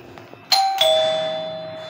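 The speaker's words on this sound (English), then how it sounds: "That is the outside bell." Apartment doorbell at the outside door rings twice in quick succession, a bright two-tone chime that rings on and slowly fades, loud and close with no talking.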